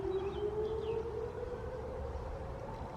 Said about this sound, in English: there goes the tornado sirens again